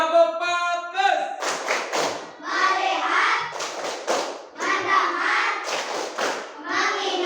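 A primary school class claps a rhythmic focus routine in a classroom, with loud bursts of group claps alternating with children chanting words together.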